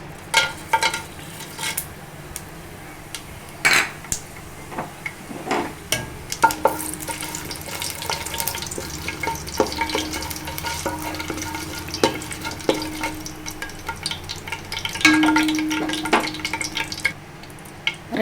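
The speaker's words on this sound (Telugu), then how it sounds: "నూనె వేడెక్కిందండి. ఇప్పుడు మసాలాలు, బిర్యానీ మసాలా వేసుకోవాలండి." Spices and biryani masala fry in hot oil for Karnataka-style donne chicken biryani, a continuous close sizzle punctuated by frequent stirring scrapes and occasional metallic clinks, with no talking.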